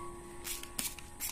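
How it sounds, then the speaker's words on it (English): A hand spray bottle mists a baking soda and water solution onto ants in a garden, with a few short faint hissing sprays close by over a low background hum. "we can already spray it"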